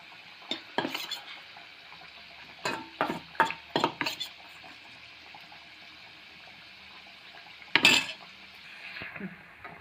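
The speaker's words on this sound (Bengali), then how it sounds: "এবার আমি তুলে নেব এবং আস্তে আস্তে আবার লো হিটে বাকি কচুরিগুলো ভেজে নেব" Chickpea kachori fry in a pan over low heat, a soft continuous sizzle broken by several sharp clinks and scrapes of a utensil against the pan.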